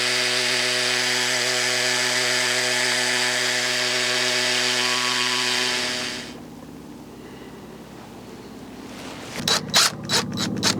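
A hammer drill with a small rock bit boring into rock whines loudly and steadily for several seconds, then cuts out, leaving a lower hum before a few sharp rattling bursts.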